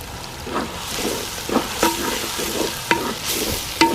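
Curry leaves crackle and sizzle in hot oil in a pan while cooking a fish curry, with a spatula stirring and scraping sharply at a few points and a continuous fry hiss underneath.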